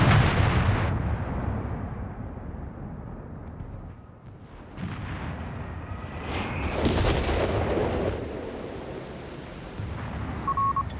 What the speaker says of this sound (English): Artillery cooldown complete.